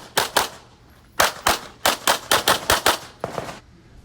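Pistol gunshots at a USPSA shooting match ring out loud and close in two quick pairs, then a fast string of about six evenly spaced shots, a short pause and a final pair.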